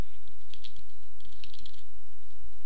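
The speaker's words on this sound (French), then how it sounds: "si je tape langage" A search word is typed on a computer keyboard in a Windows 8 search box, with a few quick, soft key taps in two short clusters over a loud constant hum and no speech.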